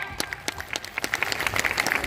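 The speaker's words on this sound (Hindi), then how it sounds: "इनके लिए भी जोरदार तालियां हो जाएं" Crowd applause at a Bahujan unity rally in India, a steady patter of many hands clapping close by, continuous and fairly loud throughout the short stretch.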